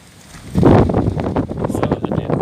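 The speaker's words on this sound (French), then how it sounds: "Oh là là, le vent." Wind gusts inside an abandoned warehouse, a loud, rushing, buffeting roar that swells suddenly and keeps churning unevenly close to the microphone.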